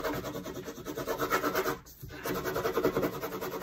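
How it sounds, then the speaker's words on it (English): A bone folder rubs steadily across paper laid on linoleum, pressing a graphite drawing onto the block. The close, dry scratching stroke repeats continuously, pauses briefly near the middle, then resumes alone. "bone folder and kind of rub, and you see how the graphite will just transfer."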